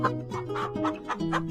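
A cartoon rooster in a children's preschool show gives a series of short, close clucking calls, repeated in quick bursts over a sustained tonal background.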